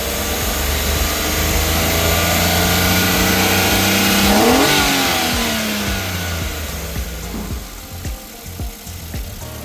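A DA17V 4x2 engine with Tiptronic AGS transmission revs up, rising in pitch to a peak, then winds back down and settles toward idle.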